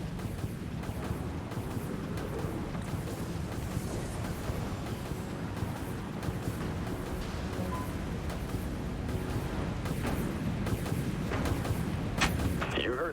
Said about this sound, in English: Fire missiles, aye, Captain.